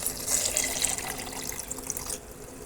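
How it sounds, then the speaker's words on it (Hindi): Water streams steadily into a jug holding grapes, sugar and salt for fresh grape juice, a close, continuous splashing pour lasting about two seconds before easing off. "अब इसमें 2 ग्लास जो हैं वो पानी डाल देंगे।"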